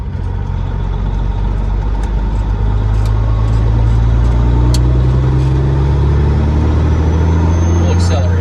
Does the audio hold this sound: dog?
no